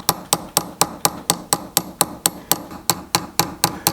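Repeated metal-on-metal taps as a chasing tool is hammered to drive a silver bezel down over a cabochon stone, about four sharp, even strikes per second, close and crisp with no voices.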